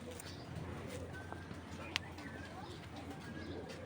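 Racing pigeons coo softly in a low, throaty murmur amid a loft's background noise, with a faint voice talking nearby.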